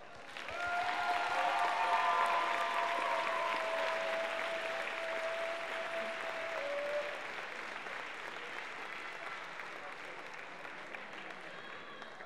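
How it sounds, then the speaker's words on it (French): Audience applause for the cosplay jury at a Polymanga Easter cosplay event, a dense sustained clapping crowd that swells early and then holds steady for the whole stretch. "je vais rappeler l'ensemble de mon jury sur scène que je vous demande d'applaudir bien fort"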